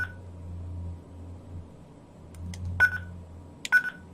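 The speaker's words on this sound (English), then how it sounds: "And this is the key tone" Retevis RT73 mini mobile radio giving two short, sharp key beeps about a second apart over a low background hum, close and clear.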